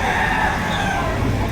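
Chickens at the Padre Garcia, Batangas livestock auction market form a dense, continuous din of crowing and clucking mixed with crowd and market noise, with no single bird standing out.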